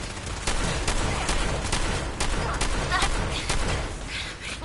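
A Fallout 4 firefight, with repeated loud gunshots cracking at a steady, uneven pace, layered bursts crowding together amid the battle's din.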